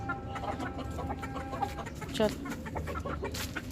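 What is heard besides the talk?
rooster and chickens clucking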